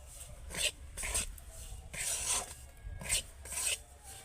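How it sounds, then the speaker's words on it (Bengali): Semolina and gram flour being stirred in ghee in a pan over low heat, heard as rhythmic dry scraping and rasping strokes of a spatula, close and steady, with no talking. "এবার আবারও আমি খুব ভালো করে এই বেসন ঘিয়ের সাথে সুজিটাকে এইভাবে মিশিয়ে নেব আর একদম হালকা আঁচে এইভাবে নাড়তে থাকবো"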